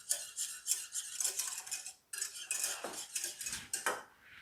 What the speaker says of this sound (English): Make sure all your butter is whisked in.